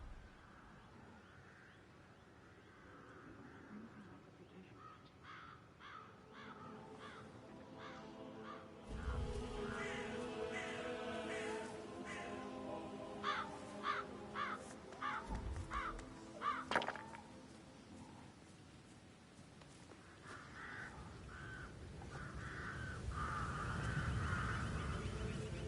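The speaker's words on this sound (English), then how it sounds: "Damn birds. If I could just get clear hits on those nests." Crows caw repeatedly in the Hitman 3 video game, with sharp harsh calls that come in irregular bursts over a quiet low ambience and grow busier partway through.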